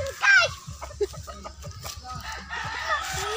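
Chickens cluck and squawk nearby in short bursts, with voices chattering underneath.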